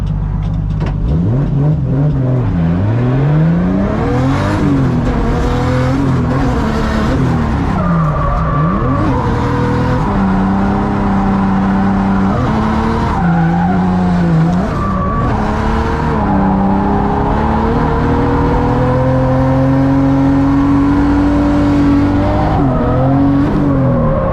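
Nissan S14 fitted with a JZ engine, running low boost with a leak, driving laps on a track: loud continuous engine revving that rises and falls through gear changes, with repeated tire squeal and skidding throughout.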